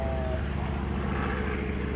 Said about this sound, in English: thing sounds like a helicopter